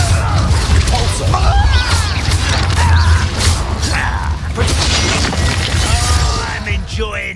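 Repulsor spell blast in Hogwarts Legacy during a fight, a dense rumbling, crashing burst of magical impact layered with creaking mechanical clatter, loud and continuous, with character voices speaking over it.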